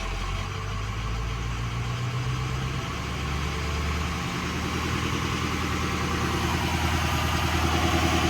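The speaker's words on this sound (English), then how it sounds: "Switch off, idles back down." A Ford 6.0 diesel engine in a truck running on a high idle switch, a loud, steady, close diesel drone with a slight rise in pitch and loudness toward the end, no voices.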